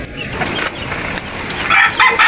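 Chicks two to three months old fight, with clucking and wing flapping against steady background noise over a few seconds.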